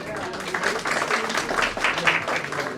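Audience applause greeting guests at a success party for a Bhojpuri song, a steady wash of clapping from a crowd that carries on throughout.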